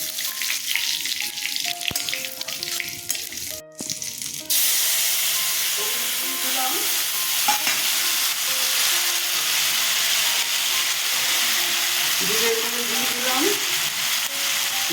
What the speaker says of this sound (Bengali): শুকনো লঙ্কা তেজপাতা ফোড়নে দিয়ে দিলাম